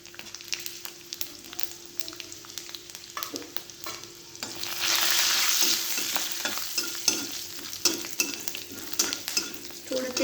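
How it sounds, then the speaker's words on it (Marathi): Green chillies, garlic and cumin frying in a hot pan, a continuous sizzle that swells louder midway, broken by repeated scrapes and taps of a spatula stirring, close up with no talking. "आपल्याला अशा थोड्याशा गरम करायच्यात मिरच्या थोडंसं लसणला मी फ्राय करायचे आणि थोडीशी जिरे पण"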